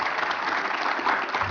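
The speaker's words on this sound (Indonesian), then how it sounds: "10 tepuk tangan" Steady audience applause at a political Q&A event, a dense continuous patter of many hands clapping throughout, without a break.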